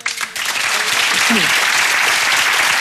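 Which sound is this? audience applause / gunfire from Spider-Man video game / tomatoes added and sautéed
audience applause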